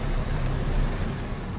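A car rolls along a road through a forest on the way to mushroom-picking spots, its engine and tyre noise a steady, loud, broadband rumble heard from inside the vehicle, with no talking.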